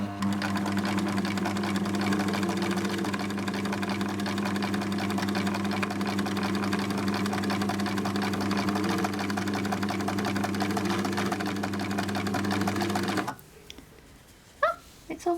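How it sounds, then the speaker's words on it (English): A sewing machine running a zigzag stitch along a fabric hem, a loud steady mechanical whirr lasting most of the time before cutting off abruptly, followed by a few faint handling clicks. "Then you just pull and sew, zigzag."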